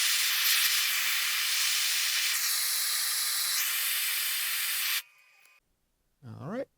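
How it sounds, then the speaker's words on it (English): A heat gun blasts air at the corner of a Blackstone griddle, a steady loud roaring hiss for about five seconds that then cuts out, followed by a short burst of speech. "I'm just going to hit it with the UV gun here for a few seconds"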